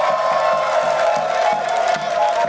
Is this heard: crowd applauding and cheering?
yes